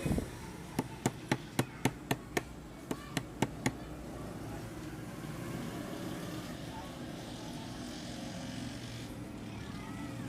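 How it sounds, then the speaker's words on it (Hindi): Sharp metallic taps of a screwdriver struck against a gas compressor casing to pry it open, about a dozen quick evenly spaced hits in two bursts, then steady workshop hum with background noise. "इस पे आपने पेचकस से चोट मारनी है, बारीक स्क्रू ड्राइवर लेना है"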